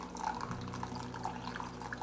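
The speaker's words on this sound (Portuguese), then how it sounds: "eu já vou completar com os últimos 100 gramas de água" Water is poured slowly over ground coffee in a Melitta paper filter, a soft continuous trickle with light splashing and drips, moderately close and steady.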